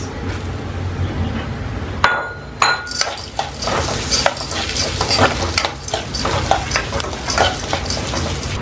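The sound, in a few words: green chillies frying in a pan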